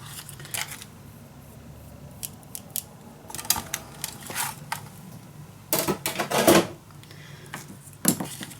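Scissors snip through a paper decoration for a mini album made from envelopes, a series of short, crisp cuts close by, with quiet pauses between the snips and a denser burst of cutting near the end.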